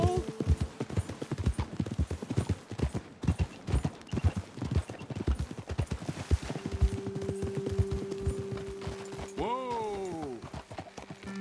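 Horses galloping in Red Dead Redemption 2, a rapid, prominent clatter of hoofbeats that gives way to a brief neigh and steady tones near the end, with voices over parts of it.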